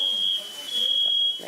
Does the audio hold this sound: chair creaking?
no